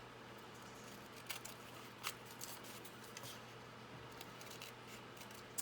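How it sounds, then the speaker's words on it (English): Scissors snip through coffee-dyed paper during a papercraft session, a few faint, quiet cuts spaced apart over a low steady hum. "I'll just cut that out real quick."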